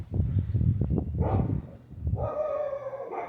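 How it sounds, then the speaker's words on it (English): Dogs bark near a garden where tomatoes are being planted, giving several quick barks and yips followed by a longer whining, whimpering call. "hopefully they're not barking the entire time."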